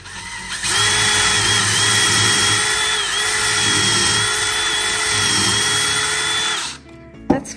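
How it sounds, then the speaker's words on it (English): A power drill bores pocket holes through a pocket hole jig while a herringbone dining table is built. The loud, steady, whining drone runs nearly seven seconds, then cuts off, leaving a brief clunk. "See, that thing made these handy, cool holes for your screws."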